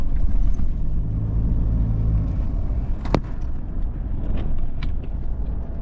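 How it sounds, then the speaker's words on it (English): Big vehicles driving along a road produce a steady loud engine rumble and tyre roar, with a brief sharp click partway through, heard up close and without speech. "You see how Africans are driving big vehicles."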